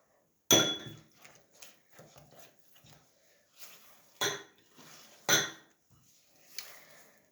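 Flour is worked into chocolate cake batter in a bowl, with a utensil knocking and clinking against the sides in irregular strikes, a few of them sharp and loud between quieter scrapes.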